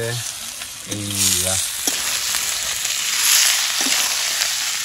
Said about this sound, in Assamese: তো মাংস দি দিলো এতিয়া মাংসখিনি এতিয়া অলপমান ফ্ৰাই কৰিম